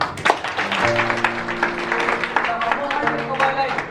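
A church congregation applauds during a sermon, with dense, steady clapping throughout and a voice carrying over the applause.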